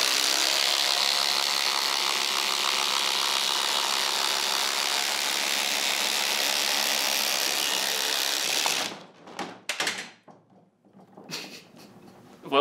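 DeWalt and Milwaukee drivers run screws into a 4x4 together, giving a loud, continuous whirring grind for about nine seconds that stops abruptly, followed by a few scattered knocks and clatters.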